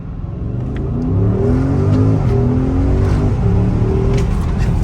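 A Porsche 992 GT3 engine revs loud and close, its pitch climbing and sliding in a sustained throaty roar with no talking.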